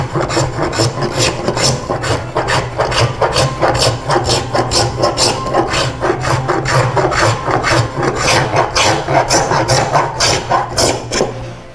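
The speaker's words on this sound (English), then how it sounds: "So I use a spoke shave for doing this." A spoke shave rasps repeatedly across wood clamped in a vise, shaping a carved Newport shell: fast, even scraping strokes, loud and close, with no talking.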